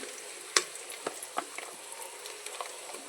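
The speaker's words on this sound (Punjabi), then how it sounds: "ਪਿਆਜ਼ ਅਸੀਂ ਪਾ ਦਿੱਤੇ ਹੁਣ ਹੌਲੀ ਹੌਲੀ ਲਾਲ ਹੋਏਗਾ" Onions and chillies frying quietly in a pan for kadhi, with a faint sizzle broken by a few sharp clicks and taps of stirring.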